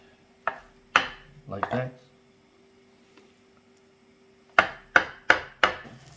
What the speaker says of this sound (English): I'm going to cut in chunks the eggplant